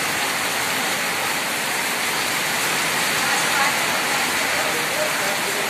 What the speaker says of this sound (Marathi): पाऊस पाऊस आला लय मोठ अति पाऊस